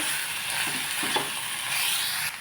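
Garlic and onion stirred into cauliflower curry frying in hot oil, a continuous close sizzle with light scraping stir strokes, no talk.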